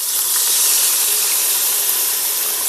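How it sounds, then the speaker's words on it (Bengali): Hot water poured into a frying jackfruit and potato curry sets off a loud, continuous steamy hiss and sizzle that holds steady the whole time. "এবার এর মধ্যে দিয়ে দেব জল।"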